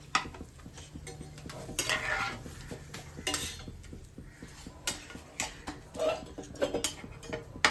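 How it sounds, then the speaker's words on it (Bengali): Chicken stirred in a pan for an oil-free chicken and rice dish, with a spoon scraping and clinking against the pan in a steady run of close, moderately loud strokes and no talking. "চিকেনটাকে অল্প নেড়ে নেবো, যাতে একটু রোস্ট হয়ে যায়"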